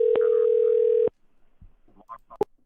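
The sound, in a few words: telephone dial tone while placing a call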